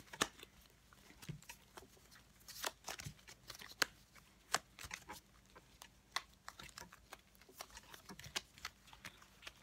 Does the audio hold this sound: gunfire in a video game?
no